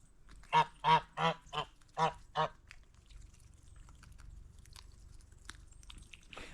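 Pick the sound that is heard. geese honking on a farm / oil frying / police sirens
geese honking on a farm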